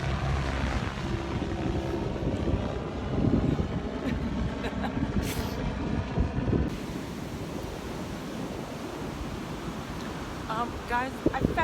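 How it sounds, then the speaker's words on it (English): A helicopter drones overhead on a beach, its steady rumble blending with wind buffeting the microphone and surf washing nearby. "Oh, helicopter."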